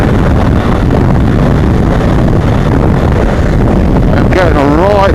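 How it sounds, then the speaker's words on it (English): Strong wind gusts on an open road, buffeting an action camera's microphone as a loud, continuous roar and rumble, with a brief whistling tone near the end. "It's some good gusts going up the road."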